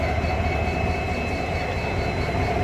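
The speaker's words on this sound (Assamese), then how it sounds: "ওচৰৰ পৰা দেখি আছোঁ ট্ৰেইনৰ ইঞ্জিনটো চাওক" An Indian Railways train engine heard up close, a steady, loud mechanical drone and rumble that runs without a break, with no talk over it.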